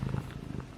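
A house cat purrs softly and close up in a brief, steady low rumble with no voices.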